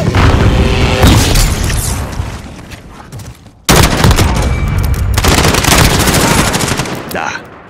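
Call of Duty Modern Warfare multiplayer combat: a loud grenade boom amid rapid machine-gun fire, a brief drop in noise, then another heavy blast and continuing gunfire, close and intense.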